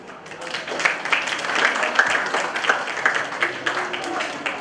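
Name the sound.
audience applause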